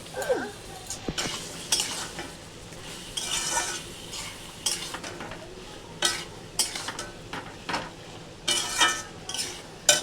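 Spices are stirred in a cooking pan over heat: a soft frying sizzle runs under irregular scrapes and metallic clinks of a utensil against the pan, close up and without speech.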